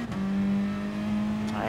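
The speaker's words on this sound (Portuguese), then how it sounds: "Ai, carrinho, acelera!" Peugeot RCZ Gr.4 race car accelerating at Red Bull Ring in Gran Turismo Sport: a steady, close engine drone holds one pitch, then rises sharply at the end, with a voice talking over it.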